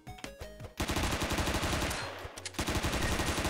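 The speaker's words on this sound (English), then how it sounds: "Let's change to our light machine gun." Rapid bursts of light machine gun fire from a shooter video game, loud and close, with a brief pause before the sustained automatic firing resumes.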